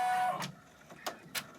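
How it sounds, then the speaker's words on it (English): An embroidery machine stitching out the lettering for the word cookie: a steady motor whir, then a few sharp mechanical bursts spaced apart at moderate, fairly quiet volume, with no talking. "Now we're stitching out the word cookie."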